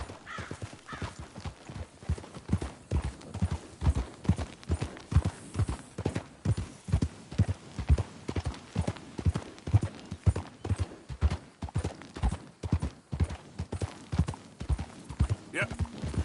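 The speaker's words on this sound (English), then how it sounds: "That's a nice horse." Steady rhythmic hoofbeats of a horse trotting in the video game Red Dead Redemption 2, a continuous clip-clop throughout, with a brief faint voice near the start.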